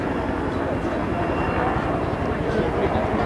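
A military helicopter carrying a ranger unit flies in during a mock combat exercise at an army garrison, its rotor and engine rumble continuous and fairly loud under a voice speaking Japanese.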